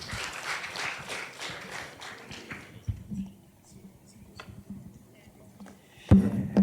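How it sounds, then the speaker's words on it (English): Applause from a youth forum audience after a team's pitch presentation, a brief burst of clapping at the start that fades into a quieter room with scattered taps and a louder thump near the end. "Let's give them another round of applause,"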